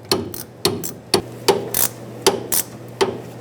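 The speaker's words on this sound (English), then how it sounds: "I'm going to tighten up the nut on the carriage bolt right here. This is a 14mm wrench or socket." A 14mm wrench tightens a nut on a carriage bolt while air bag springs go onto a 1999-2007 Ford F-350, giving a quick series of sharp metallic ratchet clicks, close and distinct, about two per second.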